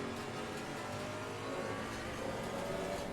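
A GT4 race car engine in the Assetto Corsa Competizione racing game drones and revs steadily during a race, a continuous mid-level roar with no pauses.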